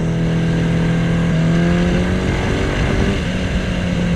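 A Yamaha XS1100 cafe racer engine with speeduino injection revs steadily, a loud, continuous droning note that climbs slightly in pitch and holds, heard up close with no talking.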